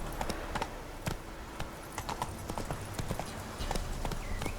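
Hooves of a horse in The Witcher 3 game, clopping steadily on the ground in an irregular trotting rhythm, close and fairly loud over faint background ambience.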